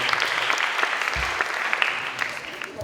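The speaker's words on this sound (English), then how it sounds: "round of applause for what they did" An audience at a youth entrepreneurship and shark pitch competition side event in Palau gives a round of applause, dense and steady clapping holding at an even level for the whole stretch.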